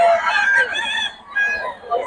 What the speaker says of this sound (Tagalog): Solid mga manok ni Boss Batang ngayon.